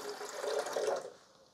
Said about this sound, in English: So I put water in.